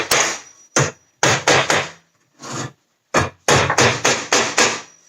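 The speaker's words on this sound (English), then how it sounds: "So all you do is tap that into the hole with a hammer." A hammer taps a tight insert into the centre hole of a Saxton 60-tooth saw blade, a series of about a dozen sharp, close metallic knocks in uneven bursts with short gaps.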